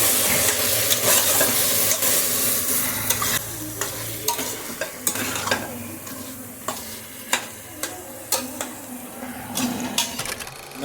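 Ground masala fries in oil with ivy gourd as it is stirred in a pan for tondekai baath. A close, continuous sizzle runs throughout, broken by repeated scraping knocks of the spoon against the pan.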